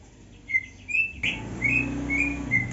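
A white-rumped shama (murai batu gundala) sings a string of bright, clear whistled phrases with short gaps between them, close to the microphone, with no voices.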